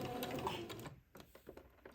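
A sewing machine runs a straight stitch beside entredeux lace on baby layette fabric, a brief close whir that fades into a few soft mechanical ticks.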